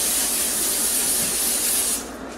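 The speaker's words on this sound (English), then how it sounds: "take cheap-ass pan and spray it with Pam." Steady, close hissing spray from a Pam cooking spray can onto a pan, lasting about two seconds, then cutting off.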